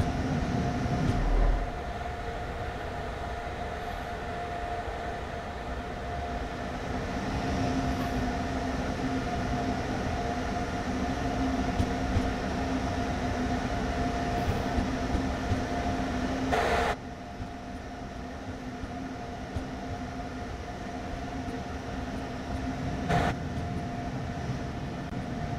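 A simulated train rolls into platform 3 at Dresden Hauptbahnhof in Train Sim World 4, giving a steady, close rumble with a low hum that dips briefly partway through, then continues evenly.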